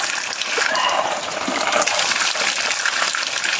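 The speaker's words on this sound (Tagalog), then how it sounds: "Ayan yung pinaggagalingan ng tubig, oh." Fresh spring water gushes steadily from its source in a forest, a continuous broadband rush that stays close and loud for the whole stretch with no voices.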